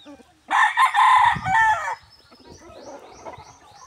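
A loud close chicken call rings out, followed by softer clucking and rustling in the background.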